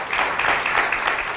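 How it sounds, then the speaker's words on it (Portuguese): A studio audience on a health talk show gives a short burst of applause for a guest dermatologist, a bright, dense clatter of hands that is steady and close. "um aplauso para si"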